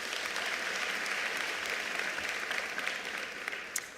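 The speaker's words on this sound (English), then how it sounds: "Can we please give them a round of applause?" A crowd gives a round of applause for Umalusi at the 2024 ministerial announcement of NSC examination results, a fairly soft, even patter of many hands that thins slightly toward the end.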